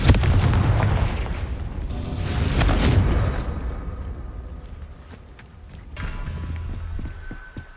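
Fiery Confringo spell blasts cast in the Hogwarts Legacy video game, loud booming bursts at the start and again around two to three seconds, fading into quieter rumbling game ambience.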